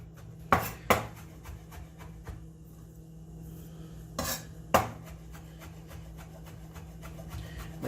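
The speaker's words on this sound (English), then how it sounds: "So just with your knife, just very quickly chop them up." Knife chopping capers for a Caesar dressing, a few sharp, separated taps on a cutting board, close and moderately loud, with a steady low hum and faint clinks between strikes.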